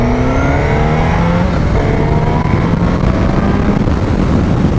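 Suzuki GSX-S1000 GX sport tourer motorcycle accelerating hard through the gears, a loud continuous engine howl with rising pitch sweeps and wind rush, heard from the rider's position without talk.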